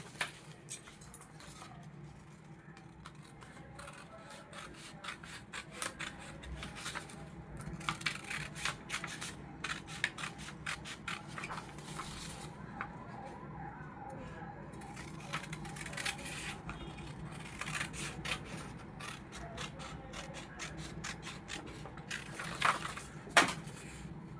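Scissors snip repeatedly through a paper pattern for a katori blouse, with crisp, irregular cuts and paper rustling close by, growing busier toward the end.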